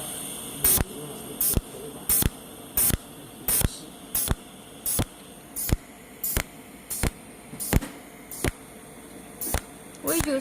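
A cold welding machine fuses metal while filler wire is fed in, a series of short, sharp hissing bursts at a steady, nearly even pace, with faint hum between them, up close.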